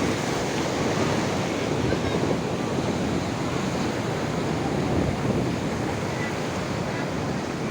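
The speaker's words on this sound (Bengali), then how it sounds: "হঠাৎ করে ঢেউ এসে একদম ভিজিয়ে দিয়ে যাচ্ছে।" Sea waves break and wash along Laboni beach at Cox's Bazar in a continuous loud surf roar, with wind buffeting the microphone throughout.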